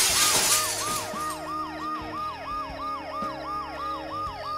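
An ambulance siren from the Dead Synchronicity video game wails in a steady, repeating up-and-down cycle, loud and continuous, with a burst of noisy crashing at the start and low background hum beneath.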